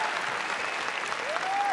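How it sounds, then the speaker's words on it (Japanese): A crowd at a K-1 kickboxing event in Japan applauds after the fight. Dense, continuous clapping carries at an even level throughout, with a faint voice partly beneath it. "あれ拍手ちっちゃくないですか"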